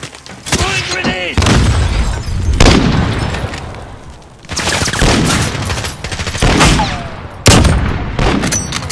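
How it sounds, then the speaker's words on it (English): A grenade explodes amid a firefight in Call of Duty: Modern Warfare, with loud repeated blasts and bursts of gunfire coming in heavy waves separated by brief lulls, while voices speak over the action. "Throwing grenade!"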